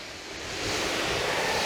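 A stream flows past an old stone barn in open countryside, making a steady broadband rush of water that swells slightly and then holds, with no voices.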